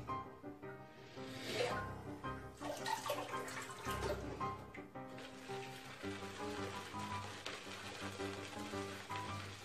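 Water running from a tap onto a Semogue shaving brush and face, a steady close splashing wash with shifting intensity throughout and some background musical tones.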